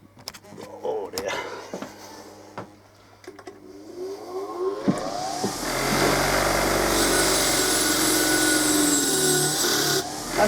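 A buffing machine starts partway through and then runs with a loud, steady whirring. Before it starts, someone talks amid some clattering.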